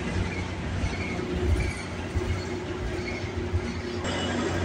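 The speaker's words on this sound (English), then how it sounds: "Yeah, this train's going pretty slow." A slow freight train rolls past at Aldershot GO station in Burlington, a steady close rumble of wagons and wheels with faint squeal, holding evenly throughout with a brief shift near the end.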